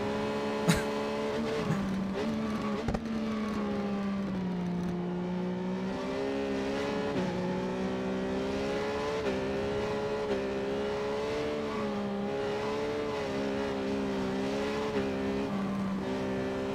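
Triumph Street Triple RS motorcycle engine in the racing game Ride 4, revving hard and accelerating through gear changes in a sustained, rising and falling whine, steady and prominent with no talk over it.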